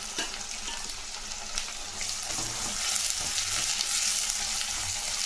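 Onions and green chillies sautéing in a hot pan with urad dal make a loud, continuous sizzle and crackle up close, with stirring scrapes and clinks and no voices.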